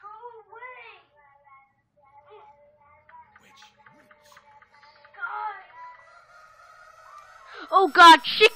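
A rooster crows in a Garry's Mod game scene, its harsh rising call arriving loudly near the end after quieter scattered game sounds and faint voice-like tones.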